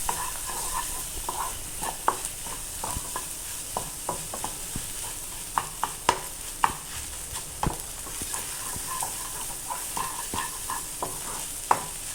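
Beaten eggs seasoned with a pinch of salt and pepper sizzle in a hot pan while a spatula stirs and scrapes them, giving a steady fry under irregular clacks and scrapes.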